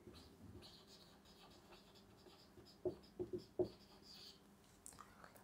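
Chalk or marker strokes sound on a board during a physics lesson, soft scratching with a short burst of distinct taps, faint and under quiet talk.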